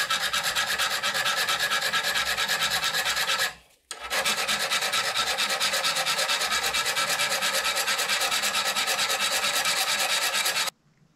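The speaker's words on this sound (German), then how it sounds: "Da gehe ich jetzt direkt mit der Feile bei und das ist, glaube ich, dann sogar schneller" Hand file rasped hard across a homemade steel spear blade, a loud, steady back-and-forth scraping that pauses briefly once and then runs on before stopping abruptly, with no voices.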